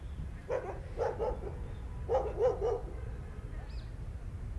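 A dog barks outdoors, two short clusters of about three sharp barks each at moderate distance over a low background hum, with no talk.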